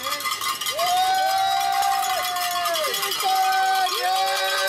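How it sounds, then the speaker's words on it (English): Spectators at a road summit cheer passing cyclists in a gran fondo, shouting and whooping with long sustained voices and clanging cowbells, close and lively throughout. "we've got some folks here cheering us on."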